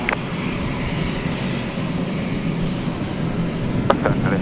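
An airliner's jet engines roar on the takeoff roll at Princess Juliana Airport, Sint Maarten, a loud, steady, broadband rush with no voices.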